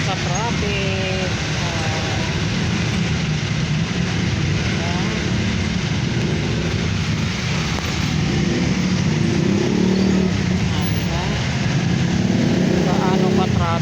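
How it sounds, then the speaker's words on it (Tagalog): Continuous dense road traffic in the Philippines, with cars and motorcycles making a steady, close rumble beneath talking voices throughout. "Sobra sa traffic."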